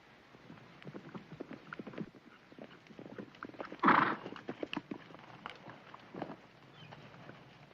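Horses ridden hard arrive in a 1965 Western TV scene, with soft, irregular hoof clip-clops and a brief loud whinny-like burst midway, fairly quiet overall.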